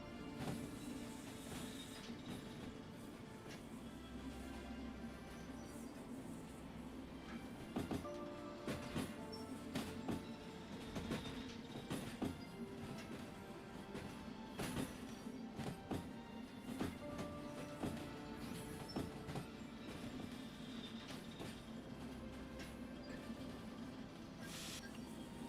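A diesel train coasts along rails in the Derail Valley game, a faint, continuous rolling rumble broken by scattered clanks and knocks from the cars, with no talking over it.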